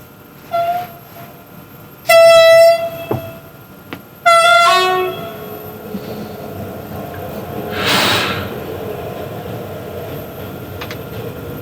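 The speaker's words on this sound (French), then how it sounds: "il y a un autre train qui rentre, celui-là, il va avoir une pousse" A freight train arrives on the line near Ambérieu-en-Bugey, sounding several loud, sharp blasts of its two-tone horn close by, followed by a low rumble of rolling wagons and a burst of hissing air as it passes.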